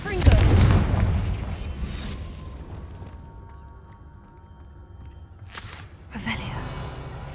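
A Confringo spell explosion in a video game: a loud close boom at the start that fades into a low rumble, followed later by a softer second burst.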